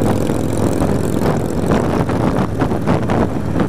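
A motorcycle fitted with Vance & Hines Short Shots exhaust rumbles loudly and steadily up close during a group ride, a dense, continuous throaty roar with no pauses.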